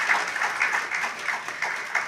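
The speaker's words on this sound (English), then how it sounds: "Please, let's give him another round of applause." Audience applause after a court-hosted lecture on estate planning and access to justice: a steady, moderately loud wash of many hands clapping together, continuing evenly without any voices over it.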